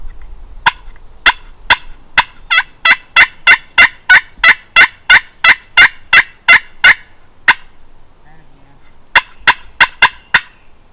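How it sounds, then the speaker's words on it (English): Wild turkeys gobble loudly and close in a Kansas field: a long run of rapid, evenly spaced gobbling bursts, a brief pause, then another quick series. "Oh, they both gobbled."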